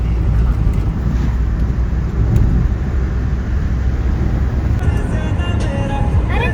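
Riding a motorbike produces a heavy, steady roar of wind buffeting the microphone over a low engine and road rumble, close and unbroken throughout.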